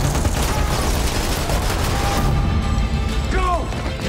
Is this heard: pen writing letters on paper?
no